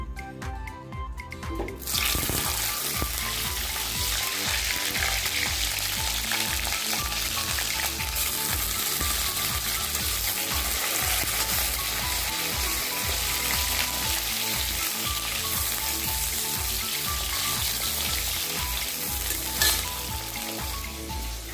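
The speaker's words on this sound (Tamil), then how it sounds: "இப்போ கத்திரிக்காவை பொரித்து எடுத்துக்கலாம்." Eggplant frying in hot oil for a Tamil kathirikkai kuzhambu, a loud, dense, continuous sizzle and crackle close by that runs without a break after a brief quieter start.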